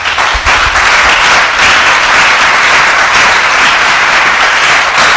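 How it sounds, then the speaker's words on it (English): Congregation at a Holiness Revival Movement gathering in Gwagwalada, Abuja, giving a clap offering to Jesus: loud, dense sustained applause from a large crowd, steady throughout with no break. "Give a clap offering to Jesus."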